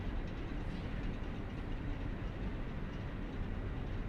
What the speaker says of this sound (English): Oh, the train just left.